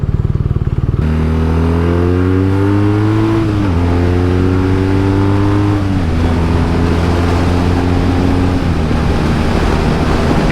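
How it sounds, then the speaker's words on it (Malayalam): A shaft-driven motorcycle engine pulls hard on an open road. A loud, steady drone holds throughout, its pitch rising through each gear and dropping at the shifts, with wind rush underneath. "വണ്ടി നല്ല രീതിയിൽ വലിച്ചെടുത്ത് നമുക്ക് പോകുന്നുണ്ട് കേട്ടോ"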